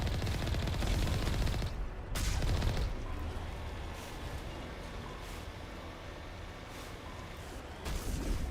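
Enemy gunfire in Mass Effect Legendary Edition, a dense, continuous clatter of shots with brief louder bursts near the start and end over a busy game soundscape.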